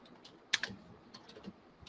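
Someone types on a computer keyboard while saving an HTML file, giving a few soft, scattered key clicks with one sharper pair of taps in a quiet room.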